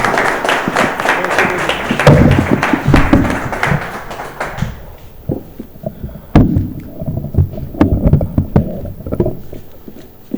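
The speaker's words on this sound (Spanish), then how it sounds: "Un aplauso, por favor, bienvenido, muchísimas gracias." A conference audience at a journalists and writers' circle applauds a speaker, starting with a dense, loud burst of clapping that thins after about four seconds into scattered, separate claps.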